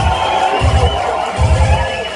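Audience at the University of Rwanda clapping and cheering for film actor Eugene, a loud crowd wash with bursts of rhythmic clapping swelling twice.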